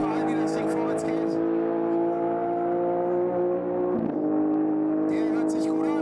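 A race car at high speed during a top-speed run: a loud, sustained high-pitched engine whine held steady, dipping briefly near the end, with someone talking over it.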